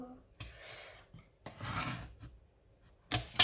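Card is cut out into easel feet for a planter card, giving a few quiet, scratchy rasping cuts in short bursts, close and soft, ending with a brief sharper tap.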